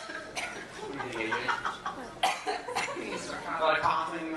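Bursts of coughing on and off, mixed with chuckles and laughter during a conversation among people on a TV show set, with voices close and clear throughout.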